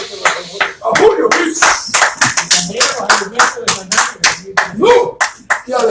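A small group at a Q&A session after a talk on religion and democracy claps enthusiastically, the hand claps close and crisp, with a few voices mixed in.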